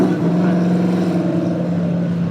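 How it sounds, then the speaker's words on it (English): A deep 330-horsepower Ford V8 muscle car engine rumbles steadily with a throaty, loping burble at Brands Hatch circuit, loud and close, holding a constant drone. "You can hear that traditional American muscle V8 sound from it."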